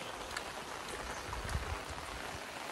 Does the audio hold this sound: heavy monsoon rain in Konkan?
yes